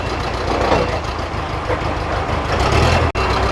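A delivery truck engine idles close by in a loud, steady rumble throughout, with a short break near the end while a motorcycle is unloaded.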